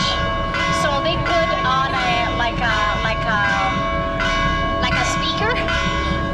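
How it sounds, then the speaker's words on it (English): Church bells ring loudly and continuously in downtown Medellín, Colombia, overlapping metallic tones with a dense, clanging ring, over a steady rumbling background. "you see that they are ringing the bells"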